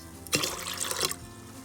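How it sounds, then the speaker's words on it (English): Water splashes and pours into a pressure cooker of curry chicken in a brief burst for under a second, close by, then stops. "Just add a little bit more water to it."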